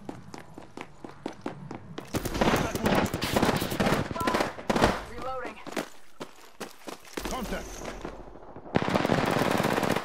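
Automatic gunfire in the battle royale game Apex Legends, sharp rapid bursts repeating through the clip at close range, mixed with footsteps, movement noise and game effects, with a loud burst closing it.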